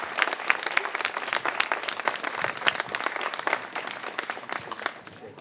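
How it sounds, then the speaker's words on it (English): Crowd applauding Oregon first responders at a celebration event, lively continuous clapping from a sizeable audience with sharp individual claps standing out, fairly close and steady. "I would just like a good round of applause for all the men and women here in Oregon"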